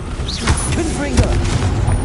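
A Confringo blasting spell in Hogwarts Legacy sets off a loud booming explosion, rumbling heavily through a short burst amid other crackling spell effects.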